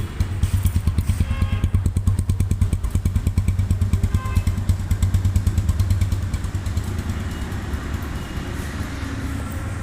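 A motorcycle engine runs at a showroom in Bogura, its rapid regular exhaust pulses loud and near, then easing slightly toward the end with no talking over it.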